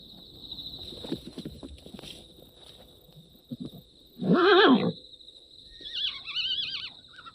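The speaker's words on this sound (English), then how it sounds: "A race of small horses remain from this bygone era." Small Jeju horses neigh in the open, one loud, close whinny rising and falling in the middle, with a fainter whinny near the end and soft rustling between calls.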